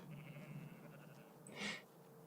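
A single sheep bleats once in the middle. It sounds faint and somewhat distant over a quiet, steady background hum, and no one is talking.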